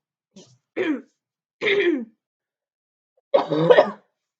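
A few short throat clears and coughs, separated by pauses, close and fairly loud with silence between them.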